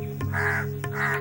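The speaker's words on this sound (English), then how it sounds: "the Indian house crow" An Indian house crow gives two harsh caws in quick succession, fairly close and clear against a quiet steady background.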